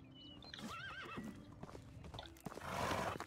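A horse in the medieval life sim Medieval Dynasty gives a clear whinnying neigh, preceded by a few hoof clops and followed by a rush of movement noise, fairly close and alone without talk.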